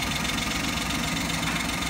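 A car engine idles while warming up from cold, its thermostat not yet open, giving a steady close mechanical hum with a fine, even knocking pulse and no talk.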